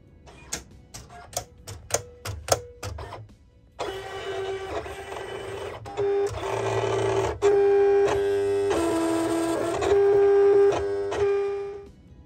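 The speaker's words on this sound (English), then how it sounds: "vinyl cutter's done its thing" A vinyl cutter cuts stickers, starting with a run of sharp ticks and clicks. It then moves into a louder, continuous mechanical whirring and buzzing with shifting tones as the carriage moves, and there is no talking.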